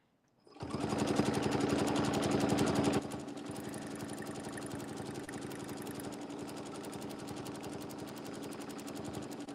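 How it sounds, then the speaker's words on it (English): Sewing machine stitching straight up a marked line, its needle hammering in a fast, steady rhythm that starts abruptly, runs loudest for a couple of seconds, then continues slightly softer to the end, with no talking. "I'm going to stitch right up that line"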